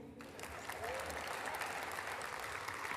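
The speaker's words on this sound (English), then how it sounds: "Just a big round of applause for me." Steady applause from a conference audience at a business forum, sustained and fairly even for the full length with no pauses.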